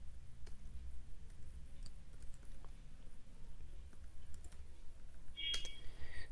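Quiet, scattered keystrokes on a computer keyboard tap at an irregular pace over a low background hum, with a brief brighter click near the end.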